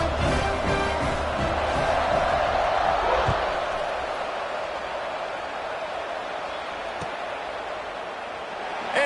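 Broad, steady roar of a big football stadium crowd cheering as the kickoff unit lines up, loud and continuous throughout with a slight swell early on.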